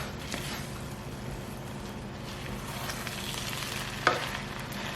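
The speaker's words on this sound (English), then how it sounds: "I can see the rice is still not cooked, but I'll stir it a little bit." Rice and prawns fry in a pot over a steady low sizzle, with faint scrapes of stirring and one brief clink near the end.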